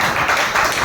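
A short burst of crowd clapping and applause, brief and fairly even.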